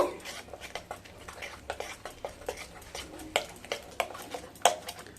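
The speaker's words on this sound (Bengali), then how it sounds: "এবার খুব ভালোভাবে মিশিয়ে নেব" Spoon stirring and scraping through a chicken chaap marinade after white oil and a couple of drops of sweet attar go in, giving repeated close, quiet clinks and wet swishes in a steady rhythm, with a few sharper taps against the bowl.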